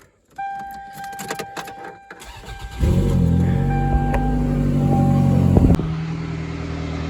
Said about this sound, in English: let's get this thing started now